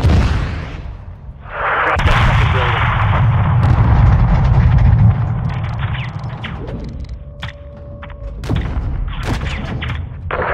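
An air strike hits a building in Call of Duty: Modern Warfare II, producing a long, loud roaring blast and rumbling debris that slowly dies away, followed by scattered sharp impacts and gunfire.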